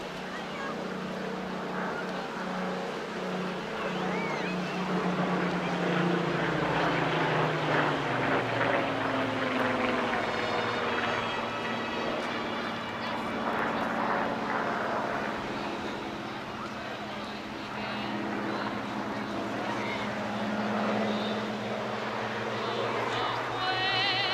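A Hawker Hurricane, the last one built and flown by the RAF Battle of Britain Memorial Flight, passes at the Clacton Airshow with a steady, droning propeller engine roar that swells and eases while an announcer's voice continues over it.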